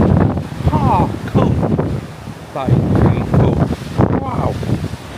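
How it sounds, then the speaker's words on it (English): Gusty wind buffets the microphone with low rumbling roars on a ship's deck while an excited voice talks over it. "Oh, it's a little bit windy."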